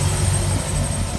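A Mercury 496 Mag 375 hp closed-cooled marine engine on a 2008 Chaparral 264 Sunesta runs at a steady low idle, a continuous heavy rumble with a faint high whine above it, with no talking.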